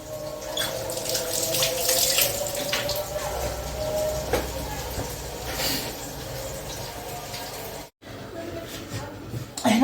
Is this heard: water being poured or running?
yes